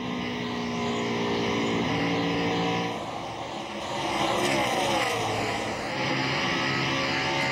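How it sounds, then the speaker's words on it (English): A NASCAR stock car climbs back up to racing speed, its engine note rising in pitch under a steady roar of other cars on the track. "Now the car seems to be back up to speed again."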